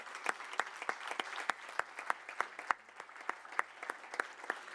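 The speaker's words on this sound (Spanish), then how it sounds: "Un aplauso para él, por favor" Audience applauding for a composer at a cultural event, sparse distinct claps from a small group in a steady rhythm, fairly faint and roomy.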